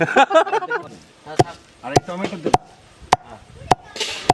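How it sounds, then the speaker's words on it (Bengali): Spices are pounded in a mortar and pestle, six sharp evenly spaced thuds following a short stretch of talk, with someone speaking quietly between the strikes. "একসঙ্গে আমি হামাল দস্তায় গুঁড়ো করে নেবো"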